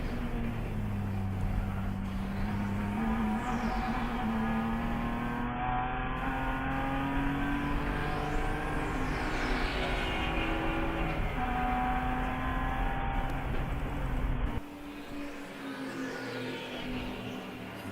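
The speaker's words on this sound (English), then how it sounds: "There's the number 1 car leaving the pits along with the number 447 of Trophy Wife Racing." Endurance race cars leaving the pits at Sebring during a ChampCar Endurance Series race, a loud steady engine drone with rising gear pulls and shifting pitch, dropping away abruptly near the end.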